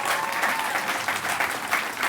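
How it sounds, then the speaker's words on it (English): A crowd at an outdoor ribbon cutting for a new elementary school claps, a dense, continuous patter of applause heard close and steady for about two seconds. "give a round of applause for that as well"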